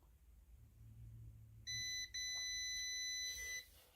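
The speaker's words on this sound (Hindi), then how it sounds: "अब यहाँ पे इसको लगाएंगे हम बजर मोड पे" A multimeter set to buzzer continuity mode sounds a steady, shrill electronic tone while testing an inverter AC circuit board, cutting off briefly once and then resuming for about two seconds before stopping.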